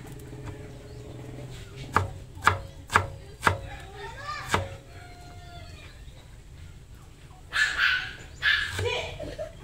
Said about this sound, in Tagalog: Guys, maghihiwa tayo ng sibuyas at bawang.